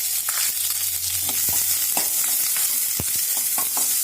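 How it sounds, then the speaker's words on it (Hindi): Onion fries in oil with mustard seeds, a loud close sizzle with a low hum and scattered sharp scrapes and taps of stirring. "अब इसमें प्याज डाल देंगे। 1 प्याज लिया है मैंने"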